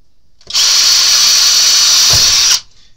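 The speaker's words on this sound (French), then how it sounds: "Je viens ensuite percer." Power drill boring screw holes with a bit sized to the screws, a single loud steady whine lasting about two seconds with a sharp start and stop.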